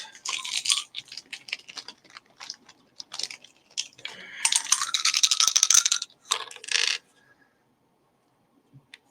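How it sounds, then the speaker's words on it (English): Dice rolled for a tabletop golf game, rattling and clattering in quick busy bursts for about seven seconds before settling into near silence. "roll the dice"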